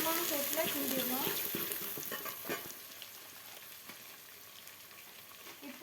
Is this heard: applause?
no